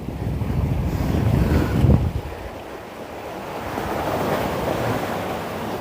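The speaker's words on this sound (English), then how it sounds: "Plus, you're hearing waves." Ocean waves wash in at a seaport while strong wind buffets the microphone. A loud surge of surf and wind builds, then drops to a softer, continuous roar.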